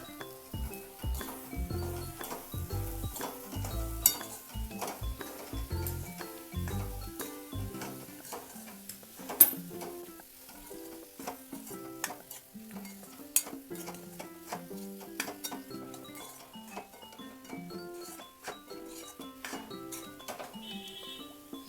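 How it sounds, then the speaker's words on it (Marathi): Potato stuffing for aloo paratha being stirred and mixed in a pan, giving repeated close scraping and clinking of a utensil against the metal, with a low rhythmic thumping in the opening seconds and no talk. "आलू टाकून छान मिक्स करून घेऊ।"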